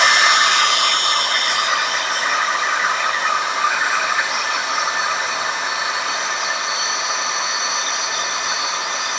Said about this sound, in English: I'm going to use my embossing tool,